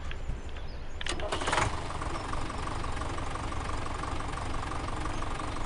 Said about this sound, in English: Overall, decent sounding tractor.